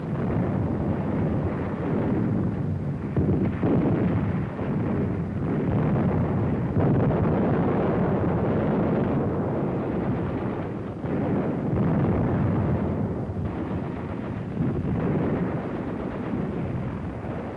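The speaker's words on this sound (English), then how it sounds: "this assault engineer knows exactly where to put his high explosive charge in order to destroy the blockhouse" A high explosive charge set by an assault engineer destroying a blockhouse in wartime film footage, heard as a sustained, dense roar of blast and rumble that stays loud throughout, with no voices.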